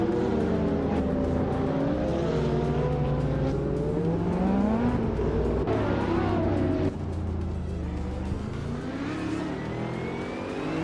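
A 2022 McLaren Elva race car engine in a racing video game roars loudly and steadily, revving up and down through gear changes as other cars whir past, with faint tire squeal and no talk.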